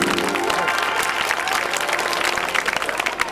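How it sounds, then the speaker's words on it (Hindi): A crowd at a Bhagwat Katha religious discourse in a village claps enthusiastically, dense sustained applause filling the room, loud and close throughout. "बजा दो उनके लिए भी ताली"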